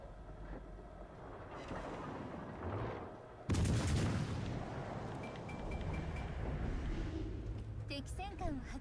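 Heavy artillery fire booms through a World of Warships: Legends naval battle, with a dense roaring wall of gunfire and explosions, a sharp louder blast partway through, and in-game voices and a player talking over it.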